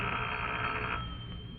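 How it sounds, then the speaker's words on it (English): A telephone rings in an old radio suspense drama, a steady buzzing bell tone that sounds continuously and fades slightly toward the end, with no voices over it. "I went home and waited for the phone to ring."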